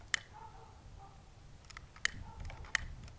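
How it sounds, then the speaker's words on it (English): Barbecue lighter clicking outdoors in light wind, three sharp isolated clicks spaced about a second apart, quiet and close, with faint background noise between them. "Barbecue lighters can be a pain in the ass."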